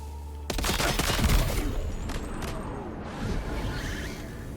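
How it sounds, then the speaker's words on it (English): Silenced assault rifle fire in Death Stranding 2: a rapid burst of muffled suppressed shots rattles out for about a second, followed by fainter impacts and game ambience, with no one talking. "I think for this guy, I'll use my silence assault rifle"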